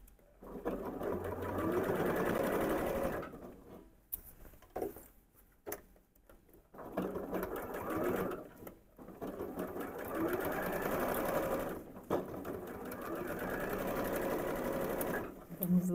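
A domestic sewing machine stitching a Christmas tree panel, running in sustained loud bursts broken by short pauses, with someone talking over it.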